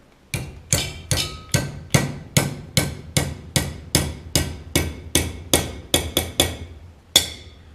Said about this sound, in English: we're going to take the hammer and basically bend it or hit it until it comes into that 90-degree angle